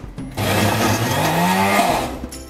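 A blender whirring through homemade peanut butter starts up after a brief pause, then runs loud and close with a strained, wavering motor pitch before cutting off near the end.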